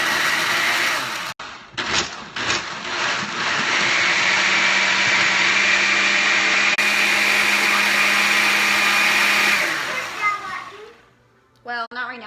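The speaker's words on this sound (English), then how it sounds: "So I'm going to blend this now" A blender runs continuously for several seconds blending a smoothie, loud and close, its motor whirring steadily after a few short starts, with a voice and adult talk around it.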